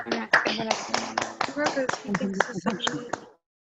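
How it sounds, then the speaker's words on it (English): Many people clap together over an unmuted Zoom call for Yoel, a jumbled, uneven patter of close and compressed claps from separate microphones that cuts off abruptly at the end. "I'm going to unmute everybody, and we'll clap for him together"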